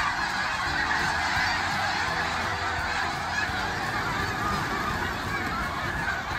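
A large flock of snow geese takes flight over a lake at Malone Rec Park, filling the air with loud, dense, continuous honking from many birds at once, steady throughout with no talking.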